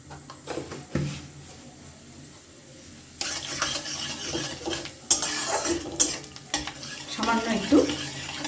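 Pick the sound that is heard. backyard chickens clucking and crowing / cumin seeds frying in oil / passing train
cumin seeds frying in oil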